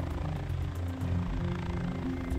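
A helicopter carrying a pilot, dart gunner and mugger flies during a Mexican wolf capture, its engine and rotor making a continuous droning hum that holds steady throughout.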